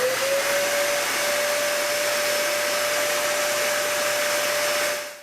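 A Dyson Ball vacuum cleaner runs steadily, a loud constant whine with broadband airflow rush and a sustained tone that holds level for about five seconds before cutting off, with no talking.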